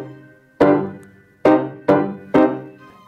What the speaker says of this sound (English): in this string quartet, we find a lot of transitions from the dominant to the tonic.